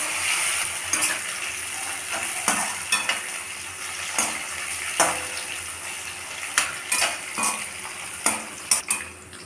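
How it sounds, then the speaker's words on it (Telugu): Raisins fry in a pan over a medium flame while making Eid kheer, giving a steady soft sizzle broken by repeated scraping and clinking strokes of a stirring spoon, with no voices. "ద్రాక్ష అండి. మీడియం ఫ్లేమ్లో ఉంచి వేగనివ్వాలండి."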